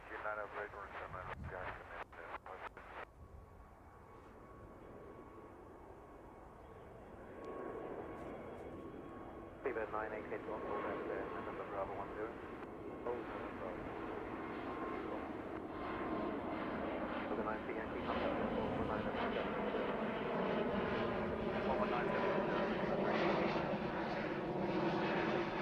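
Aircraft at Heathrow Airport, a Qatar 777-300 followed by a Korean Air 747-8 nearby, with faint clicks and a steady tone early on, then engine noise swelling into a growing roar; a radio voice and talking come and go.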